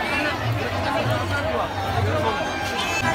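A large, dense festival crowd at Ganpati Visarjan, with a steady close babble of many voices and movement throughout.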